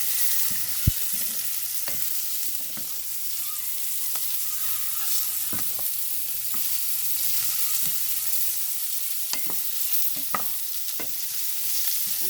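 Chopped eggs sauté in butter and a little oil in a pan, a steady close-up sizzle with scattered pops and the occasional tap of a utensil, and no voices.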